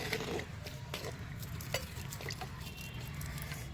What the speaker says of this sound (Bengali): নেড়ে দেবো আস্তে করে